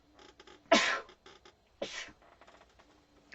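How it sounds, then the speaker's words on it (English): Two sharp sneezes, close and loud, about a second apart, with quiet rustling and small creaks between them. "I am going to sneeze again."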